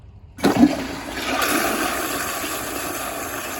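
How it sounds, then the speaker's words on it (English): A 1994 American Standard PA Cadet toilet flushes during a dirt test: a sharp whoosh as the valve opens, then a steady loud rush and gurgle of draining water, close up. "even after the flush, you'll sometimes have to flush it 2 times just to get everything to go down"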